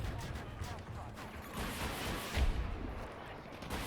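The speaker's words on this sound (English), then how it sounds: "you can see our gunner is just taking people out with the grenade launcher" A grenade launcher on an armored vehicle fires in the shooter game Battlefield 2042, dull booming thumps and blasts over a constant rumble of battle noise and engine drone, with a voice talking over it.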